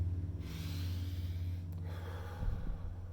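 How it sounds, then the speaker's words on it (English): A calm breath taken in through the nose and let out through the mouth: one soft, steady inhale followed by a gentle exhale, close and alone. "This is how a calm breath is."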